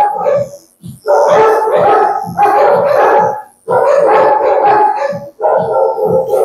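Several dogs bark and yip loudly in repeated overlapping bursts, with brief howling tones and short pauses between volleys, close by and filling the scene.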